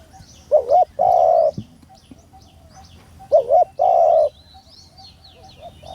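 A large dove gives two clear cooing phrases, each a short warbled note followed by a longer held coo. Faint chirps from other small birds sound in the background.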